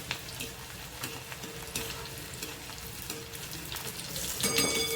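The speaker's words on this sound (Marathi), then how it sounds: "लसूण टाकते चार पाच पाकळ्या कापल्या आहेत बारीक कापून घ्यायच्या आहेत लसूण छान गुलाबी व्हायला द्यायचे" Four or five finely chopped garlic cloves fry in hot oil for a dal tempering after cumin seeds, giving a steady soft sizzle with faint stirring clinks, a few sharp crackles and a louder burst near the end.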